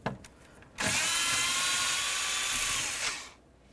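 A power tool spins out bolts beneath the dash of a 2003-07 Chevy Silverado, a loud, close, continuous whine lasting over two seconds after a few light clicks, then winding down.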